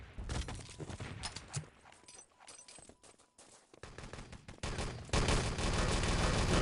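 Grenade explosions and gunfire in Enemy Territory, with dense bursts of rapid shots, cracking blasts and a loud continuous barrage toward the end.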